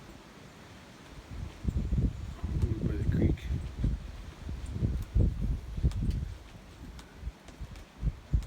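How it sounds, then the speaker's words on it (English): Gusty wind buffets the microphone in uneven bursts on a farm, too windy for spraying weeds, with a person speaking briefly in the middle. "It's really too windy to spray"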